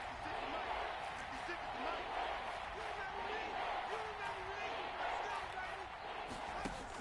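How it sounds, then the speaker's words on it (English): Seahawks home crowd roaring in an American football video game during a red zone play, a constant loud wash of stadium noise with a play-by-play commentator talking over it. "this red zone is where the Seahawk crowd really makes it tough for an offense to communicate"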